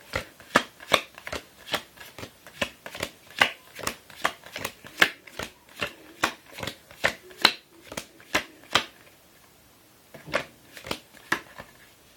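Magic: The Gathering cards shuffled by hand in a steady run of crisp riffles and snaps, close and clear, with a short pause before the last few shuffles.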